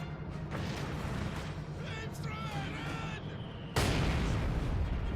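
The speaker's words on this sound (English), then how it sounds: "Mortar taking some nasty shots at the Grens" Mortar fire in Company of Heroes 2: a steady battlefield rumble with distant thuds, a few warbling whistles in the middle, then a sudden loud impact blast near the end, with a voice talking faintly underneath.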